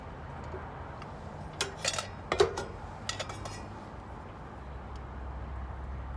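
Beef being stirred into rice and beans in a pot during on-the-road cooking, a few clinking scrapes of a utensil against the pot clustered in the middle over a low steady rumble.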